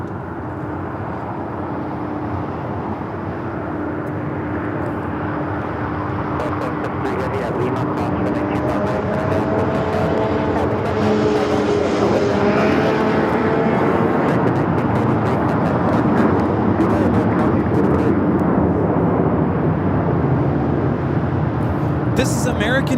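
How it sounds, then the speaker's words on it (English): American Airlines Boeing 737-800 jet departing Los Angeles LAX for Austin, its engine roar building and swelling loud as it rolls and climbs, with whining tones rising through the middle and people talking over it. "This is American Airlines 1943 taking off to Austin, Texas on the 737-800."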